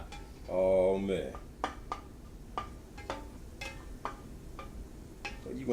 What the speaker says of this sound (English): Finish sauteing this up.